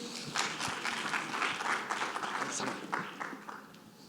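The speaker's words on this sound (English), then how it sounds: "So a big round of applause for our next panel." An audience at a blockchain summit applauds a conference panel, steady close clapping that lasts the whole few seconds, with a faint voice underneath.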